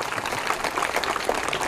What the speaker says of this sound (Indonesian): Yang percaya tepuk tangan dulu,